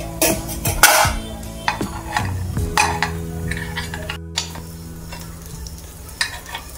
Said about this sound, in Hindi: आता वाफेवर आपले आप्पे शिजून झाले आहेत, आपण त्याला आता टर्न करून घेऊया